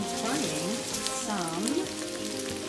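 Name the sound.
Brussels sprouts frying in olive oil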